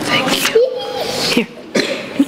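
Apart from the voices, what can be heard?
sneeze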